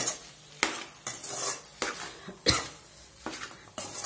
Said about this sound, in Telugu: ఇప్పుడు ఇందులోకి వేసుకొని ఒకసారి రైస్ని ఈ మసాలా అంతా పట్టే విధంగా కలుపుకోండి